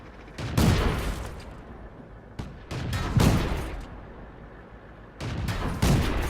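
Tank cannons fire in World of Tanks battle play, giving three heavy, booming shots a few seconds apart, each trailing off into a long rumble with background battle noise.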